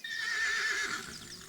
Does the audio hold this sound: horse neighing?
yes